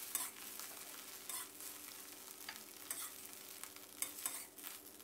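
Quiet, steady sizzling of garlic stir-frying in oil in a wok for fried rice noodles, with light scraping and tapping of a spatula stirring the food.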